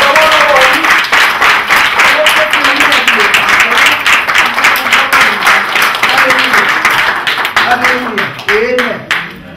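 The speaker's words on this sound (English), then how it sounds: "Celebrate, clap your hands for Him." A congregation at a funeral service claps their hands loudly and rhythmically in a celebratory beat, with voices singing and talking over the clapping throughout.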